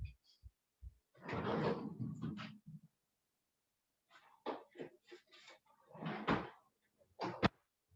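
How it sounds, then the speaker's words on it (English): A kitchen freezer door opens and closes with soft bumps, rustles and thuds near the microphone. Faint talk and handling noises fill the gaps. "I put that in the freezer"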